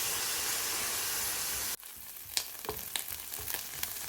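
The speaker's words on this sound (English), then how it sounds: "Add 2 chopped onions and fry until translucent, about 5 minutes." Chopped onions frying in oil for a cashew chicken curry base: a steady loud sizzle that drops abruptly partway, then continues quieter with scattered spoon scrapes and stirring clicks.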